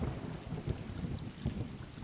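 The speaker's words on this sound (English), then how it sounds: "I like how the thunder sound was delayed." A low, rolling rumble of thunder in the video game Stray, with steady rain, heard at a moderate distance and fairly quiet, no voices.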